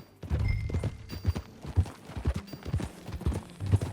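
Close, clear hoofbeats of a ridden horse in Red Dead Redemption 2 clop in an uneven galloping rhythm, loud and dry with no talk over them.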